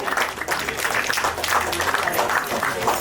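Sustained crowd clapping at a book launch ceremony, continuous and fairly loud across the whole stretch, with some voices mixed into the applause.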